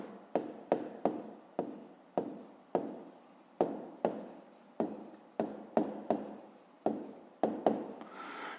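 Pen or chalk strokes writing numbers during a fifth-grade math lesson, a steady series of short scratchy bursts, each a quick stroke followed by a brief pause, close and clear with no talking.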